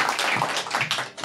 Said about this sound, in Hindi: एक बार ताली बजा के अपने जागने का सबूत दीजिए पहले।